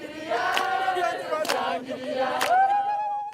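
Rally crowd singing together, a loud massed chorus of voices with sustained harmonic tones and a few sharper shouts, continuous and close throughout.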